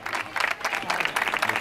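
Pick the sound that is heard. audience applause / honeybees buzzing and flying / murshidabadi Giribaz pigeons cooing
audience applause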